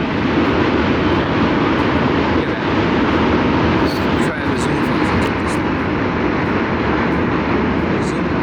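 A group of jet skis passes on the water near Brooklyn Bridge Park, a loud continuous engine roar that holds steady for the whole stretch, with wind and a voice talking over it.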